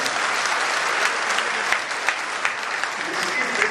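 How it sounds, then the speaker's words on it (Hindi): Crowd at a Madhya Pradesh chief minister's rally for the Ken-Betwa water pitcher procession applauding, a dense, steady wash of clapping held at a loud level throughout with a few sharper peaks. "जोरदार ताली बजाकर मोदी जी का"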